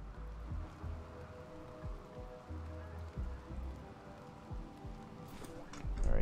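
Rain patters steadily on surfaces in the video game RimWorld, a soft continuous hiss with scattered drops, joined by faint low thuds and a brief brighter burst near the end.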